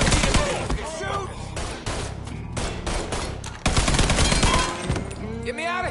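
Gunfire in the video game Mafia 3: dense, overlapping shots and bursts from several guns, close and continuous, with shouted voices in between.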